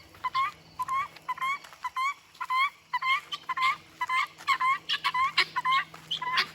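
A flock of free-range guinea fowl on a homestead keeps up a rapid, repetitive chorus of harsh, scratchy calls at close range, with no people talking.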